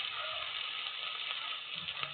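Ginger and garlic paste hitting fried onions in a hot pan, a steady bright sizzle that holds evenly for a couple of seconds with a faint scrape near the end.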